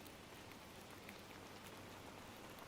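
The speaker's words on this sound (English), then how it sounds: "The rain is your lullaby" Steady rain falls in a soft, even hiss, faint and continuous throughout, with no voices.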